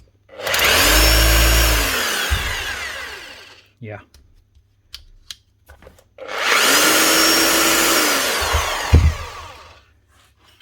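An FF Group RH 7-40 Pro rotary hammer runs in two loud bursts of about three seconds each, whining and buzzing with a clatter as it winds down, and a short spoken word falls between them.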